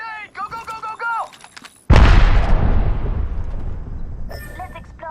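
A grenade detonates in the video game Apex Legends with a sudden heavy boom and a long rumbling decay, following brief game chatter and with another voice line near the end.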